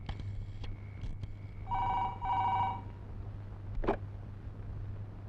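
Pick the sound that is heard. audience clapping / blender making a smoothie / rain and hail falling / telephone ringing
telephone ringing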